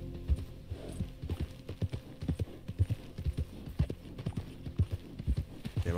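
Horse hooves clip-clop steadily on the ground in Red Dead Redemption 2, an uneven run of close, fairly loud thuds with no voices over them.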